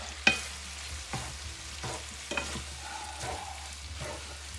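Green onions sauté in a pan with a soft, continuous sizzle, broken by several spaced stirring scrapes and taps of a utensil, fairly quiet and without talk.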